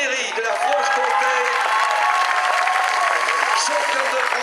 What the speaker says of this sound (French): Mesdames, messieurs, on applaudit Laura Perry de la Franche-Comté